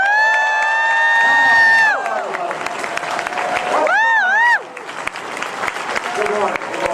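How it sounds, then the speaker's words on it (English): Audience applause and cheering for the Evil Dead cast at a Chicago ComicCon panel, a large crowd clapping steadily throughout, mixed with whoops and a loud tonal sweep early on. "Give them a big round of applause."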